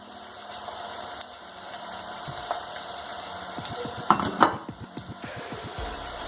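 Onion frying in a pan for a stuffed roast fish with bacon farofa, a steady soft sizzle with a few clinks and scrapes of a utensil against the pan near the end.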